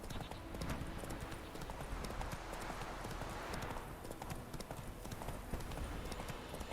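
Horse hooves clip-clop steadily in The Witcher 3 as the mount trots along in the game, a brisk rhythmic patter of hoofbeats at close range that continues throughout.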